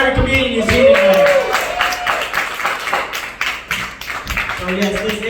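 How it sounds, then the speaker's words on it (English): Comedy night crowd clapping for the comedians at the show's close, a fairly loud stretch of applause mixed with cheers and voices talking over it. "One more round of applause for every comedian you see tonight."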